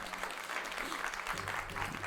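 Brief burst of applause during a livestream of the game Shadow Madness, a quiet patter of clapping over a low hum, lasting about two seconds.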